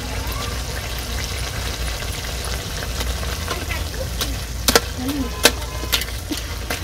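Fish frying in a pan for shukto with bottle gourd in a Bangladeshi village kitchen, a steady close hiss running throughout with a few sharp clinks near the end.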